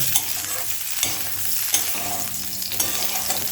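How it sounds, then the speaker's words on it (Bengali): Steamed cauliflower pieces frying in hot oil in a pan, giving a loud, steady close-up sizzle with occasional stirring scrapes and no voices. "ফুলকপির টুকরোগুলো 3 থেকে 4 মিনিট হালকা লাল করে ভেজে নেব"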